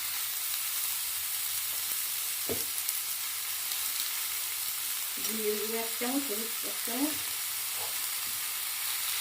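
Turmeric and spices sizzle in hot oil in a pan, with a steady low frying hiss and a few brief tonal clinks near the middle as the pan is stirred.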